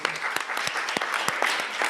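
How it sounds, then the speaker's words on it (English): An audience at a public debate session on LDC5, biodiversity and food systems claps for a Special Rapporteur, a short burst of dense, moderately loud applause with no voices over it. "I would like to ask for a round of applause as well to the Special Rapporteur"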